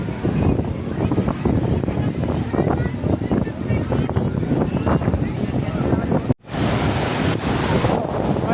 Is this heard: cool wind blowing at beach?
yes